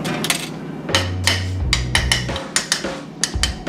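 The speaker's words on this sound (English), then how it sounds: "If you tap it and it sounds hollow, then you know it ain't ready" Freshly cast pewter gets tapped with a tool to check whether it has cooled, giving a quick series of sharp metallic knocks and clinks in an uneven rhythm with no speech.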